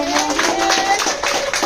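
Brief burst of audience applause at a children's performance, dense steady clapping throughout, loud and close with no talk over it.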